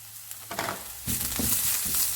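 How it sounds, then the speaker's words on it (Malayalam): Turmeric and curry leaves frying in a pan for a mushroom fry are stirred, giving a soft sizzle that swells into steady crackling and scraping, close and alone. "ഇനി നമുക്ക് ഇതൊന്ന് ഇളക്കി കൊടുക്കാം."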